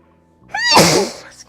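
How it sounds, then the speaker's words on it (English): A single person's sneeze bursts out close and loud, a sharp breathy explosion with a short vocal onset, standing alone in an otherwise quiet room. "I'm gonna sneeze."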